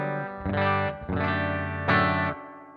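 Electric guitar played through a Headrush Gigboard clean amp model with chorus off, three sustained strummed chords ringing out close and loud, each fading before the next.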